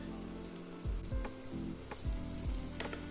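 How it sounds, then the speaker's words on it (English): Diced pumpkin and scallions sautéing in olive oil for Jamaican-style pumpkin rice, a steady soft sizzle with a few spoon stirs and scrapes against the pan, close and fairly quiet. "Just saute these until they start to brown and caramelize"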